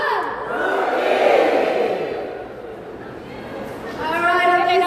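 At a comic con panel, an audience shouts a single word in unison, a loud crowd cry that swells and fades, followed by a voice talking over the end.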